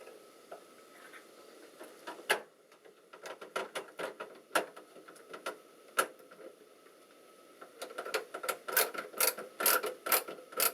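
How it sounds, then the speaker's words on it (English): A screw being driven into the center mount of a PC case, a series of quiet close clicks and ratcheting ticks, with faster clustered clicks toward the end. "now I'm going to take one of our screws and screw in the center screw"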